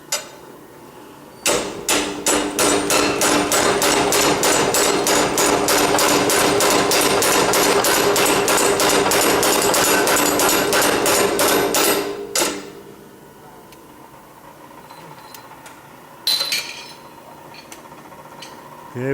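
A blacksmith hammers steel stock into a round tenon with a fast, steady run of loud, ringing blows lasting about eleven seconds, followed by a quieter pause and a few scattered strikes and knocks.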